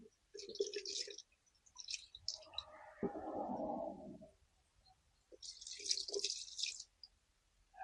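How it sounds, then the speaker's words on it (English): Water from a lawn hose rinses the roots of pepper plants outdoors, faint splashing and trickling in short separate bursts with a softer, lower gush in the middle. "we're going to rinse off these roots a little bit"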